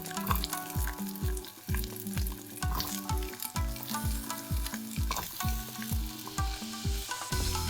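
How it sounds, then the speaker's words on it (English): Zucchini and bell peppers fry in olive oil over medium heat, a continuous close sizzle broken by a steady rhythm of spoon or spatula strokes scraping and stirring the pan. "Add zucchini and bell peppers."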